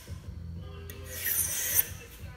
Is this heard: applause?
no